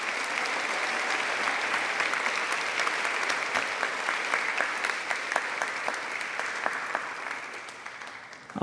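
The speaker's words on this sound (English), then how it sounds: "let's give a round of applause for all these fantastic students." Sustained, steady applause from a concert audience for high school choir students at a spring concert, a dense wash of many hands clapping evenly throughout, loud and continuous with no speech on top.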